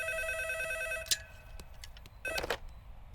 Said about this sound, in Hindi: अभी फोन हमारे रूम में बज रहा है।